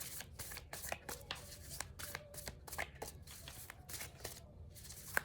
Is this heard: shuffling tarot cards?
yes